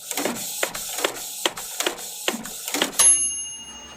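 A 3D printer works in a run of regular clicking, whirring pulses, about eight evenly spaced strokes, close and moderately quiet, ending in a brief electronic tone.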